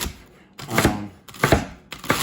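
A knife chops celery one stalk at a time on a cutting board, in three short bursts of quick rhythmic strikes close by.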